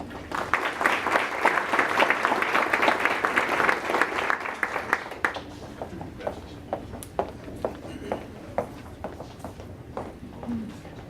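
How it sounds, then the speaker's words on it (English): An audience at a scholar athlete awards ceremony applauds in a sustained round of clapping for about five seconds, then it thins to a few scattered claps and quiet room noise. "a round of applause for the scholar athletes from Bristol Research"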